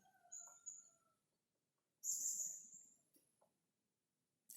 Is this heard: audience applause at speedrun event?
no